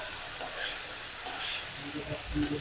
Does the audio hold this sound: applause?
no